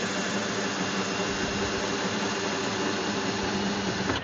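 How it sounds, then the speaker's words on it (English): A brushed Milwaukee screw gun cranking a Husky 72-inch workbench, a close, loud, steady whirring motor drone held for several seconds before cutting off abruptly. "This is just a Milwaukee screw gun. It is not of the fuel variety. It is brushed."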